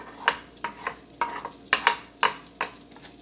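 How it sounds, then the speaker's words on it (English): Potatoes fry in melted butter in a hot pan, with sharp crackling bursts every half second or so as they are stirred and turned, close and fairly quiet. "we're gonna put our potatoes in first now that our butter is sizzling a little there"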